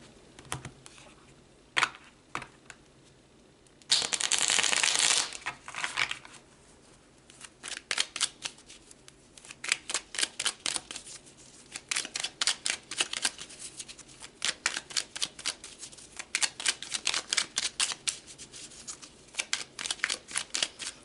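Tarot cards are shuffled with dense riffling bursts and quick rhythmic flicks, close and clear, and one longer sustained riffle appears early on.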